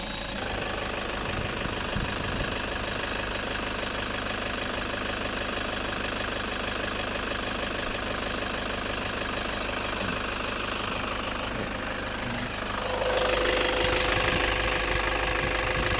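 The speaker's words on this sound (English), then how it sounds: "Now we're just waiting for the engine to warm up and we can do our first test." A Toyota Hilux with 297,467 km runs at idle while warming up, a steady, close, continuous engine drone with rhythmic knocking texture, slightly louder and rougher for the last few seconds.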